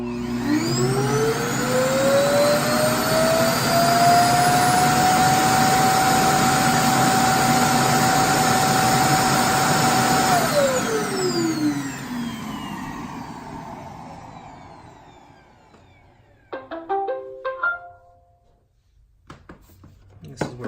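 A Roomba i7+ robot vacuum motor whines up to a steady high-pitched drone. It holds for about ten seconds, then winds down and cuts out, leaving quiet mechanical clicks and clatters.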